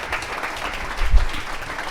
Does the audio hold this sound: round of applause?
yes